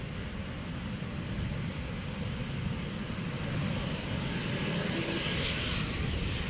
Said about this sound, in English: we've ruled out that this is a Captain Wheelie landing